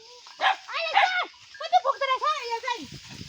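Dogs, including a puppy, barking and yelping in a series of short harmonic calls up a hill along a goat path near a forest, fairly close and loud, with brief gaps between barks.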